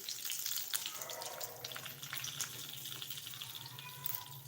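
Cumin, mustard seeds and a dried red chili sizzle in hot oil, giving a continuous crackling hiss with small pops, heard up close and with no voices over it.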